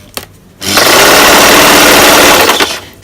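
A sewing machine stitching stretchy T-shirt fabric into a dress runs in one loud, steady whirring burst of about two seconds, starting and stopping abruptly with quiet pauses on either side.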